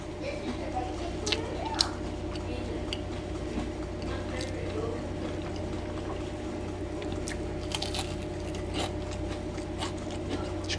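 Soft close chewing of crispy homemade battered walleye fish and chips, with moist squishy mouth sounds and occasional small crunches over a low hum.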